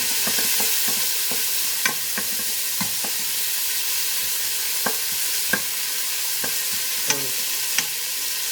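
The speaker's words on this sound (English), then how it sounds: "Separate the bacon pieces as well as you can. And now we're going to let them cook for a bit to render out their fat." Bacon pieces fry in avocado oil in a pot as a spoon stirs and separates them, a continuous sizzle broken by repeated sharp scraping clicks and taps, with no talking.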